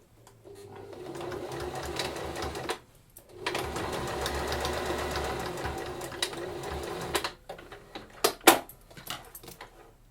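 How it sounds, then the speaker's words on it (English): Domestic sewing machine top-stitching the edges of a fabric dog bandana, running in two steady close bursts with a short pause between, followed by a few sharp clicks and handling knocks. "Now I'm just going to top stitch the edges of this in lieu of pressing them."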